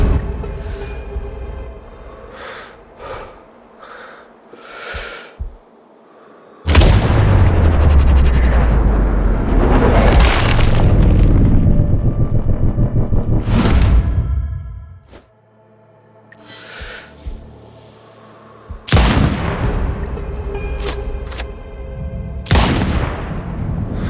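An antenna blows apart in the Sniper Ghost Warrior Contracts 2 video game, a loud, close explosion with a deep rumbling roar lasting several seconds. It comes after quieter game sounds and is followed by a second burst of rumbling noise.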